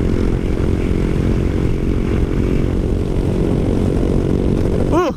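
A Honda Forza 250 scooter accelerates under throttle, its engine giving a loud, steady, close droning roar with heavy wind rush throughout, fading sharply at the very end.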